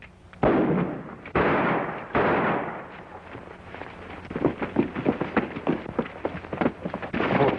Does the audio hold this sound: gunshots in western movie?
yes